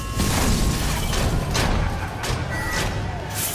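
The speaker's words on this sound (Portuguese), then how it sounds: "Bem na hora dos fogos de artifício." Fireworks at a party in Marvel's Spider-Man burst as a dense, continuous barrage of booms and crackles, loud and close with repeated sharp bursts.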